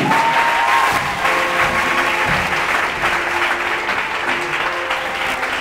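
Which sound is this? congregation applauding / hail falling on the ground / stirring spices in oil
congregation applauding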